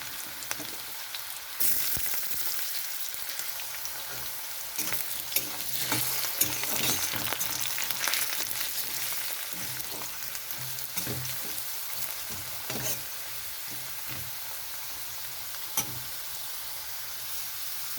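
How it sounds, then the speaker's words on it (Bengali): Potatoes frying in a pan for a vegetarian oats khichuri, a steady close sizzle broken by scraping stir strokes and soft clinks throughout, with no voices. "প্রথমে কিন্তু আলুটা এরকমভাবে ভেজে নিতে হবে"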